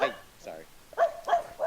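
A dog near a house gives a few sharp, fairly close barks in short bursts with brief gaps between them.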